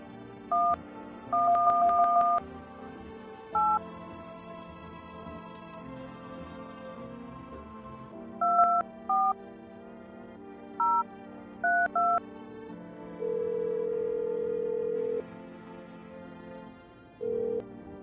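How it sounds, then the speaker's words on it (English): Telephone number being dialed on a phone keypad, a series of short, clear touch-tone beeps at irregular spacing, some in quick runs, over a steady background hum with a longer tone near the end; no talking. "I will make a phone call to"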